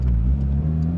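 A Porsche 911 GT3 sports car with its engine holding a loud, steady, humming drone close by, heard alone without speech.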